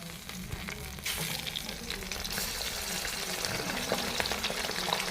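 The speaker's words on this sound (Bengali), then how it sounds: "এখন মাংসগুলোকে এক এক করে ছেড়ে দিই" Chicken pieces go into hot oil with fried chopped onions, bay leaves and raisins for a biryani, and a loud, dense, continuous sizzle surges up and holds steady close by.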